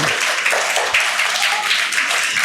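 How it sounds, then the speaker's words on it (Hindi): At a gathering in a Buddhist vihara in Ulhasnagar, Mumbai, an audience gives steady, close, loud applause for a correct answer, with many hands clapping continuously and no voices. "जोरदार तालियां"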